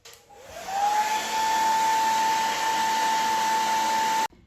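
A hair dryer runs steadily and close, drying a watercolour painting of a white lily, with a constant whining tone that rises as it starts and cuts off abruptly at the end, no talk.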